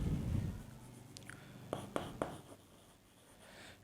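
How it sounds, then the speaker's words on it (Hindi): Pen or pencil strokes on paper in a classroom setting, a few quick scratchy marks in short bursts, faint and close, with no talk over them. "यहाँ लिखेंगे हम"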